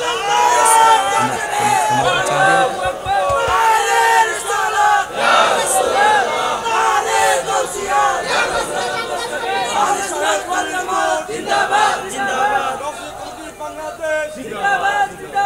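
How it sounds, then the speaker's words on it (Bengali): A large crowd at a religious gathering loudly chanting slogans in unison, a dense roaring mass of voices with rising and falling surges throughout. "স্লোগান দেন।"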